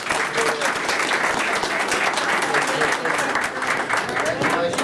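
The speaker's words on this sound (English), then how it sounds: "One more big round of applause." Dense, continuous audience applause at a Board of Supervisors public hearing, many hands clapping close and loud for the whole stretch, with faint voices mixed in.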